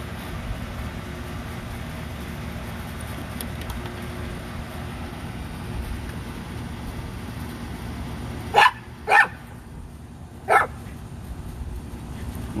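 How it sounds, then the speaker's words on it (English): A few sharp rat terrier barks, three quick yaps in a cluster during play, rise over a steady low background hum after a long stretch of ambient noise. "Go bark at the other dog."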